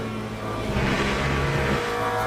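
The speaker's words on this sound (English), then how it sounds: "the engine sound does come through my rear speakers" Race car engine from the sim racing game Le Mans Ultimate, a steady loud drone that holds through the moment and swells slightly midway, with no talking over it.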